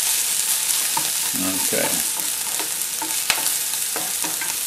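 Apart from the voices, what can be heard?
bacon and apple pieces frying in a pan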